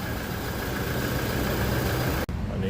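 Toyota Revo diesel pickup engine idling close up, a steady loud rumbling clatter that cuts off abruptly near the end as the engine is shut down.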